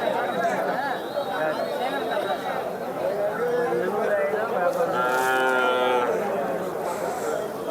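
A cow moos with long harmonic calls at a busy cattle market, loud and fairly close, over steady crowd chatter and people talking nearby.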